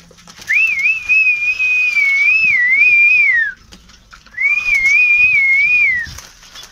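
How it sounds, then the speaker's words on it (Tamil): A person whistles to call pigeons to feed at home, two long wavering melodic whistles, loud and close, with a short pause between them and no talk. "நான் வந்து விசில் அடிப்பேன். விசில் அடித்தாவே எல்லா புறம் அலாட் ஆயிரும்"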